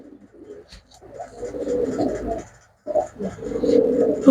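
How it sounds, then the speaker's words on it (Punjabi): A red-headed, white-eyed pigeon up for sale coos close by in two low, throaty bursts separated by a short silence. "ਕਰੋ ਚੈੱਕ ਅਗਲਾ ਕਬੂਤਰਾ"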